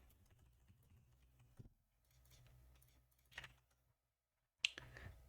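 Typing on a computer keyboard during C programming work, heard as quiet bursts of key clicks separated by near silence, with a sharper click near the end, soft and close.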